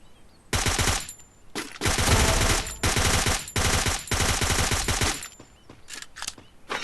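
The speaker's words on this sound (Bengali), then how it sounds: "স্নাইপার চালাইতেছে" Loud video game gunfire crackles in long, rapid bursts separated by brief pauses, close and dominant, with no talking.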